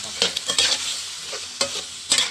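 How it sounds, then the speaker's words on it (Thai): Pork bones with light soy sauce and a little sugar get stir-fried in a pan: a steady sizzle with repeated scraping stirs of a utensil, close and moderately loud, and no talking. "แล้วเราก็จะผัดให้เข้ากันนะทุกคน"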